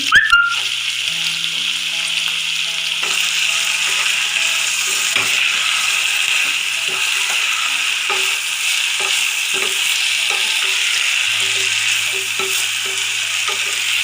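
Onions with a pinch of salt sautéing in a pan for restaurant-style poori masala, a steady loud sizzle running throughout with occasional clicks of stirring and a low hum from the stove or kitchen.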